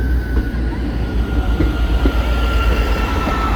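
A train passes through Shrewsbury station with a steady loud rumble of wheels on rails and faint clickety-clack, continuous and close throughout.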